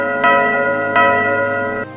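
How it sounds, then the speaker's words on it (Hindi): A brass bell hanging from a ceiling in an old, dusty haveli rings three times, each clear metallic strike fading into a long resonant hum, loud and close with no voices. "छत से एक पीतल की घंटी झूल रही थी और अपने आप बज रही थी"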